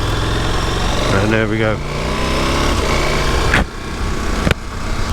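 A 2022 KTM 1290 Super Adventure S motorcycle in street riding mode, its engine note dropping and fading as the throttle closes, heard up close under the rider's talk.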